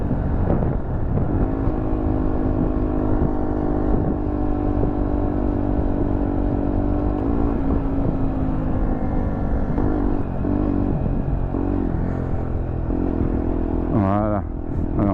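A Zontes Scrambler 125 motorcycle engine drones steadily while riding, its pitch shifting with throttle and gear changes, heard continuously beneath someone talking.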